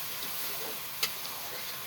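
Food being sautéed in a pan gives off a steady, faint hiss of sizzling, broken once by a single sharp tick of a utensil, with no voices.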